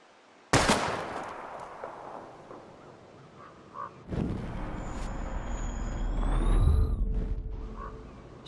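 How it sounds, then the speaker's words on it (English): Gunfire at bottles in the video game Life Is Strange: one sharp, loud shot, then a second blast later, followed by a rumbling swell and a rising whine with faint background ambience. "We're gonna shoot all these bottles without wasting a single bullet."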